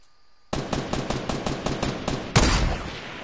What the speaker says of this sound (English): it's a heavy sniper rifle